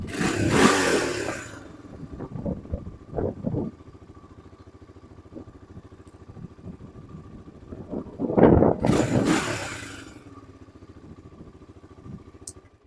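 A Honda TRX300EX ATV engine idles steadily, with a couple of sharp revs near the start and again about two-thirds through, surrounded by faint clatter and no talk.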